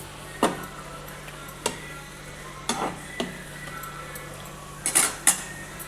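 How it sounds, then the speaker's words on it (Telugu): Metal utensil stirring salt into food in a cooking pot in a home kitchen, a few sharp clinks and scrapes spaced across the stretch with a steady low hum beneath, no talking. "ఇలా ఇందులో కొద్దిగా సాల్ట్, కొంచెం సాల్ట్ వేసిన కలుపుకుంటున్నాం"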